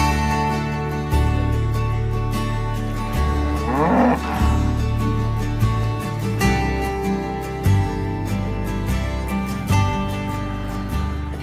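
Dairy cows on a Tasmanian farm in pasture country low repeatedly and loudly nearby, several long, drawn-out moos following one another over a steady outdoor background.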